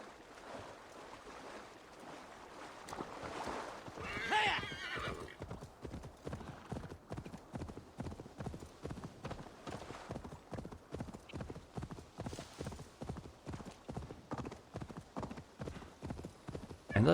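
A horse in Assassin's Creed Valhalla trots along with steady, rhythmic clip-clop hoofbeats, preceded by a brief neigh, heard up close and alone.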